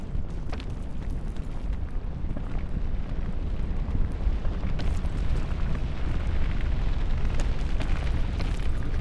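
A lava eruption in Final Fantasy XIV rumbles as a steady, deep roar, swelling slightly toward the end with faint pops and bursts; no voices.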